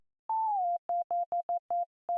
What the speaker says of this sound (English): This filter is also self-oscillating, the resonance.